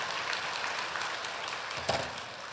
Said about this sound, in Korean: 박수를 치려면 다 쳐봐.